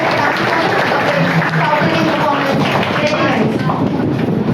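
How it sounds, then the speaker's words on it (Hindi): A crowd at a Diwali celebration claps for a group of dance performers, dense sustained applause heard loud and close throughout, with a mix of crowd noise and a few thuds. "चारों के लिए जोरदार तालियां बजाइए"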